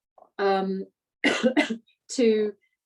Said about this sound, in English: I have got a bit of a tickle in my throat, so excuse me if I keep coughing